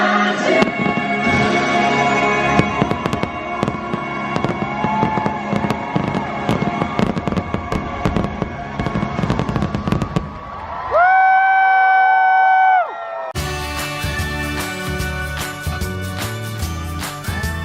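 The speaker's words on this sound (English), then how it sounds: "I really enjoyed the fireworks show." A Disneyland fireworks show in 2016: dense, rapid booming and crackling bursts with a faint crowd underneath, then sustained bright music tones and a full musical finish.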